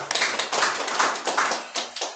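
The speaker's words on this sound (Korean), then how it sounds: "할렐루야 박수 한번 보내드리겠습니다." A church congregation applauding during an Easter service: dense, steady clapping from many hands for about two seconds, close and fairly loud, with no voices over it.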